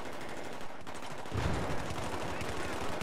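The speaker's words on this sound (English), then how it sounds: "I used the whole mag and got so many hit markers and no kills" Rapid video game gunfire as a whole magazine is emptied, a dense continuous rattle of shots that grows heavier partway through, loud and close.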